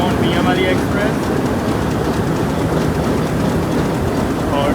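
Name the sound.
Mianwali Express passenger train at Malakwal Junction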